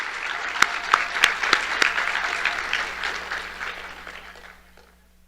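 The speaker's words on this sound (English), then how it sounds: "One more round of applause, please, for all of our contestants." Audience applause for pageant contestants at the Miss and Jr. Miss Cherokee competition, a dense wash of clapping with a few sharp claps up front, steady and close, then fading away over the last second or so.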